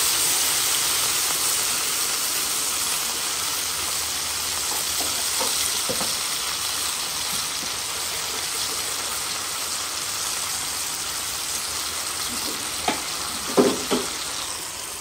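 Pork and cassava cooking in a pot with a little water give a steady, dense sizzling hiss throughout, with a few brief clinks near the end and no talking.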